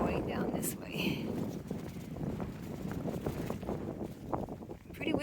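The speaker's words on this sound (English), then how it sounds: "Pretty windy still." Wind buffets a hillside in fluctuating gusts, roaring into the microphone with uneven rumbling swells, while a person speaks over it.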